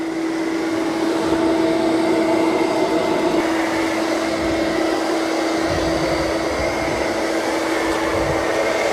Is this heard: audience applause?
no